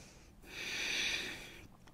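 A single slow, audible breath through the nose held during a yoga pose, a soft airy rush that swells and fades over about a second in a quiet room.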